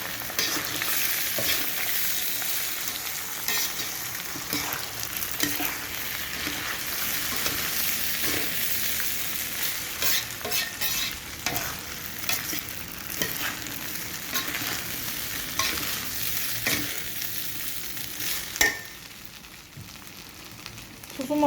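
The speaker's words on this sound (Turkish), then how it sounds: "Evet bulgurlarımı ekledim. Böyle karıştırıyorum." Washed, drained bulgur being stirred in a hot sizzling pot for bulgur pilaf, a steady close frying hiss with scraping spoon strokes throughout and a sharp knock near the end.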